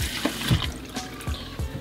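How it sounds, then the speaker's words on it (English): Hot water poured into a small cup holding leftover soap for cleaning a Nike Air Max 1 Dave White sneaker, with close splashing and trickling in several short bursts. "add some hot water in there"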